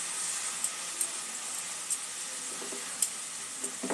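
Grated bottle gourd fries gently in ghee over a low-to-medium gas flame, giving a soft, even sizzle with a few faint clicks and pops scattered through it.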